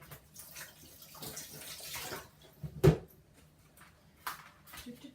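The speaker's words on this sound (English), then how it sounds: "So I'm just going to pour some water into here." Filtered water is poured into a glass container for sauerkraut brine: an irregular splashing trickle rises and falls, with a sharp clink partway through and a brief gurgle near the end.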